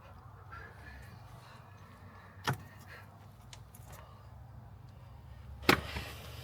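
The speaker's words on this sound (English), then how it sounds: "The bracket snapped." A cast aluminium bracket snapping during a Porsche 996 engine install in a garage, heard as two sharp, isolated clunks a few seconds apart over a quiet background hum.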